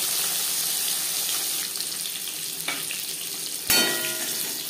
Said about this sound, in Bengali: প্রথম ব্যাচে মাছ ভাজা হয়ে গেছে, একটা পাত্রে উঠিয়ে নেব।